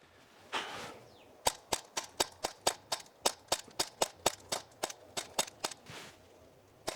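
Realistic Sig P365 or S&W M&P 2.0 replica BB pistol fired outdoors in a rapid string of about twenty sharp, snappy cracks at a steady, quick rhythm, loud and close, with no talking.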